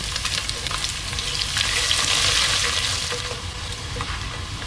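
Green chillies, ginger and garlic fry in a pan for a Kerala beef curry, making a loud, steady, close sizzle that swells in the middle and eases off again, with no talk.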